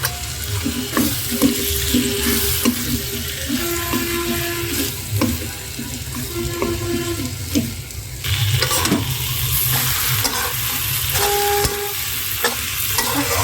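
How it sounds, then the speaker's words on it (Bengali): Pointed gourds fry in a spice paste meant for fish, with a continuous close sizzle broken by scattered stirring scrapes throughout. "মাছের জন্য মশলা কষিয়ে নিয়েছি এবার পটলগুলো দিয়ে দিলাম"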